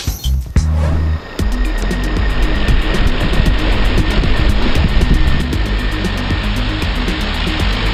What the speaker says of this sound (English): this is going to be a budget brushless quadcopter that is able to carry a GoPro